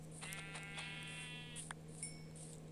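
Short synthetic Minecraft sheep bleats, a few separate calls over a steady electronic hum, with faint clicks in between.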